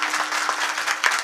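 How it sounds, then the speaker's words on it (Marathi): Brief burst of enthusiastic applause from a crowd at a comedy kirtan, dense steady clapping throughout. "सर्व गुणवंत मंडळीसाठी जोरदार टाळ्या"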